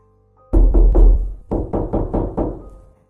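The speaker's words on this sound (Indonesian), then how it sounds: "Suara ketukan pintu itu." Knocking on a door, close and loud: a quick run of four knocks, a short pause, then a second run of five raps.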